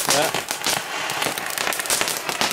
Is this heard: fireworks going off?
yes